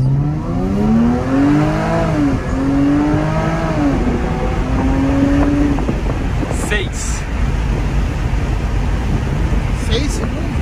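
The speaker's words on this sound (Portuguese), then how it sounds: "parei o carro aqui pra gente fazer o teste do de 0 a 100" Jaguar F-PACE launching from 0 to 100 km/h, its engine note climbing steadily through gear changes with loud wind and road roar building inside the cabin, continuous throughout with no talking.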